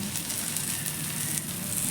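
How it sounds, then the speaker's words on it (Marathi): Dhapate flatbread roasts in oil on a pan over a medium gas flame, giving a steady, close sizzling hiss that holds evenly for the whole stretch with no voices. "थोडंसं भाजत आलं की त्यावरून परत तेल टाकायचं, साईडनी थोडंसं आणि वरतून."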